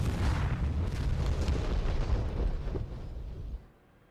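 Bombs explode in DCS World, a heavy rolling boom with dense rumbling debris lasting about three seconds before dropping away abruptly to near silence.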